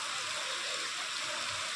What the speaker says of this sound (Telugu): వర్షం పడుతుంది అమ్మ బాబోయ్ పెద్ద సౌండ్ వస్తుంది